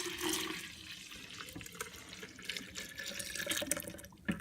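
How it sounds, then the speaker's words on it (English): Horchata base made with oatmeal is poured from a strainer back into a pitcher, a continuous quiet liquid splashing and trickling stream with a small clunk near the end. "So now we'll return that back to the pitcher."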